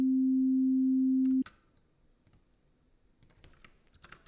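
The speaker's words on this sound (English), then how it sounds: "here's an example of a sine wave" A steady pure sine tone from music software holds loud and unwavering for about a second and a half, then cuts off abruptly, leaving faint clicks and keyboard tapping.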